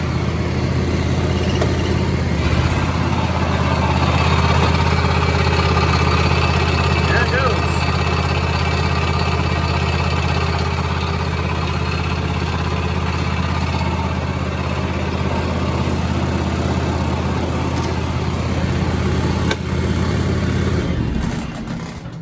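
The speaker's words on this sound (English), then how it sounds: "Okay, let's turn on the PTO." The rear PTO runs on a John Deere X738 lawn tractor, a loud steady engine drone with a constant low hum that holds throughout the clip and eases off only at the very end.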